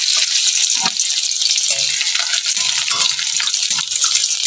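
Chopped garlic frying in hot mustard oil in a heated pan, a steady loud sizzle and crackle with small stirring clatters, and no talking.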